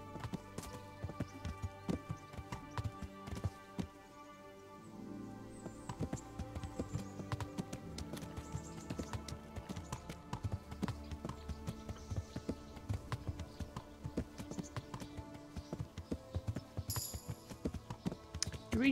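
Horse hooves clip-clop in a quick, steady rhythm that continues throughout, fairly quiet, with soft game music in the background, in the video game Kingdom Come: Deliverance.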